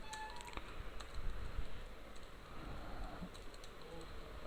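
Fast, light keystrokes on a computer keyboard during data entry into a database table, faint and scattered over a low background hum.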